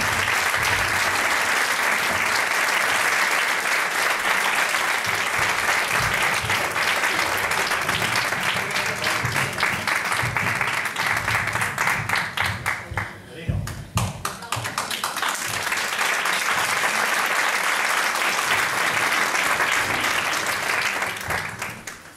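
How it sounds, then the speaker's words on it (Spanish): Sustained audience applause for the poet Victorino González at a poetry tribute evening, a dense, steady clapping that runs loud and unbroken, dips briefly near the middle, then swells back to full strength. "Un aplauso, Victorino."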